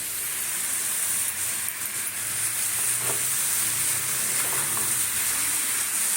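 Ground spices, including coriander powder, fry in a pan for an ash gourd and lentil dumpling curry made with little oil, giving a steady, close, loud sizzling hiss that runs the whole time with no talking.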